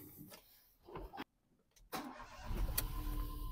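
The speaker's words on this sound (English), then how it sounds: "I'm going to start the car now" A Ford Transit van engine starting after a starter motor fix: faint cranking bursts, a short silent pause, then the engine catching and settling into a steady low idle, heard from close by.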